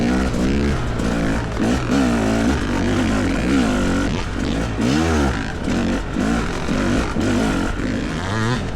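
A Fantic XE300 dirt bike's engine revs up and down in steady surges while riding on a trail, loud and close throughout with a rough, buzzing tone, and nobody talking.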